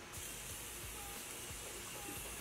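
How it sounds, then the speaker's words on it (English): Setting spray mists onto a face in one continuous soft hiss that starts almost at once and holds steady, fairly faint and alone. "What I'm going to do after that is spray my face."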